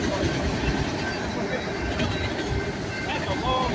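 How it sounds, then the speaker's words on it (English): A long freight train rolls past on the railroad at a crossing, a steady loud rumble of wheels and cars that fills the whole stretch, with a faint screech near the end and voices talking over it. "That's a long train."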